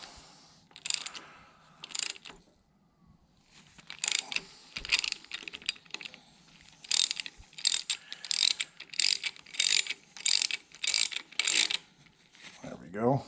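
A ratchet clicks in repeated quick bursts while a cam phaser bolt is tightened on a Hemi engine, crisp close mechanical ratcheting with short pauses between strokes.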